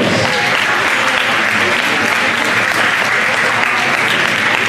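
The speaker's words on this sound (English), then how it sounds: "Give a round of applause." A hall audience gives sustained, dense applause at a dance championship trophy presentation for the top overall couple, loud and steady across the whole stretch without a break.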